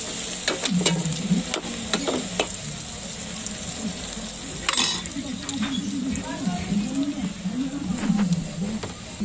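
Carbonara ingredients sizzle and fry in a pan while being sautéed, with a steady crackle, scattered sharp clinks of a utensil against the pan and a voice talking over the cooking.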